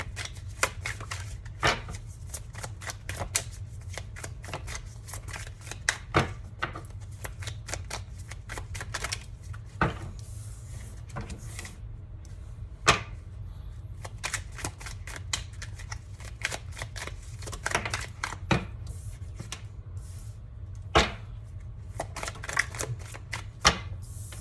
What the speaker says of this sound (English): I'm just going to continue shuffling until I pull roughly 4 or 5 more cards